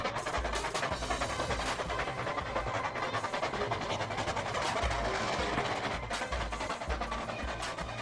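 A train rumbles past close by, with steady rhythmic clattering of wheels over rail joints and a continuous roar throughout.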